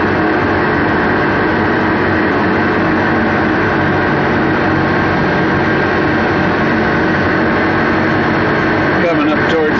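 Case IH 550 Quadtrac tractor pulling a Case IH 870 ripper across a field, a steady loud engine drone with constant low rumble and broadband roar throughout, a brief rattling change near the end.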